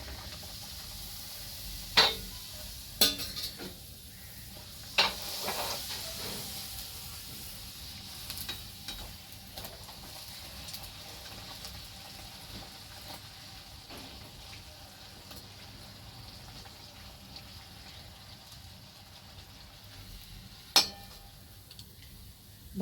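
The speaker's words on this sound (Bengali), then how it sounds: "বাকি কচুরিগুলো আমি এইভাবে ভেজে নেব।" Koraishutir kochuri, pea-stuffed puris, frying in hot oil with a steady low sizzle, broken by a few sharp clinks of a utensil against the pan near the start and again near the end.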